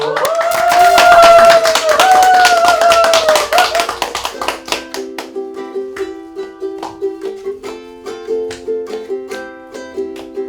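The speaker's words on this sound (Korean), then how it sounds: "큰 손뼉으로 맞아주십시오" An audience at a Korean climate-action broadcast claps by hand, a dense burst of applause that fades as a song's melody begins playing.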